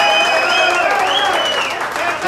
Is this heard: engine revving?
no